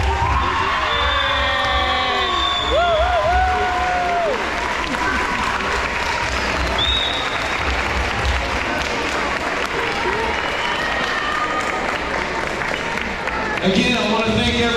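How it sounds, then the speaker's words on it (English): A banquet crowd gives sustained, dense applause to student athletes' parents at a sports banquet night, with scattered whoops and cheers rising over the steady clapping for the full stretch. "give a great big round of applause to the ones who do it all"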